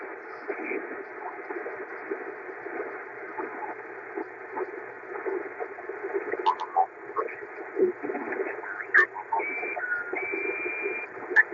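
Ham radio station heard through a receiver on lower sideband while tuning an MFJ-2980 antenna, a muffled, band-limited garbled voice with faint chirps and crackle, steady and moderately quiet throughout.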